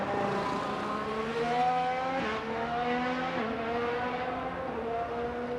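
A 2019 Formula 1 car circles the Canadian Grand Prix track in qualifying, its high-pitched engine whine rising steadily through the gears with sharp drops at each upshift, loud and continuous.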